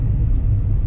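Cars rush past on a highway in the Konkan, heard as a loud, continuous low rumble of engines and tyres with a slight rise and fall as vehicles go by close at speed.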